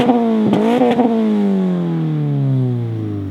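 A car fitted with a single-exit axle-back muffler-delete exhaust with blue burnt tips gives a few sharp, loud revs, then its raspy drone settles into a long, falling-pitch decay, with no talking.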